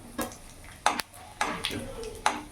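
Panch phoron and a broken dry chili hit hot oil, a soft background sizzle punctuated by four or five sharp metallic clinks and taps from a spoon against the pan.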